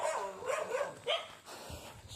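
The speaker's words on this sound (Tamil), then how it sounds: "சிஸ்டர் வீட்டு நாய் ஃபுல்லாக எல்லாம் குறைக்க ஆரம்பிக்குது நம்மளை பார்த்ததும்." A dog at a house on an estate barks at night in a few quick, close bursts with a short whimpering yelp, followed by quieter rustling.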